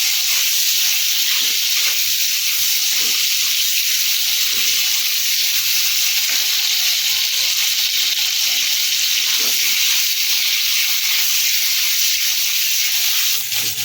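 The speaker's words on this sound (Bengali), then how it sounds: "আলুগুলো একটু হালকা করে ভেজে নেবো" Loud, continuous sizzling of potatoes frying lightly in hot oil for a spring onion chorchori, with occasional faint stirring sounds underneath and no talking.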